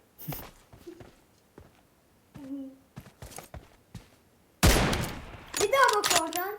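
Gunfire in the mobile battle-royale game PUBG Mobile, several sharp isolated shots followed by a loud dense burst of rapid fire near the end, mixed with game effects and some sounds resembling voices.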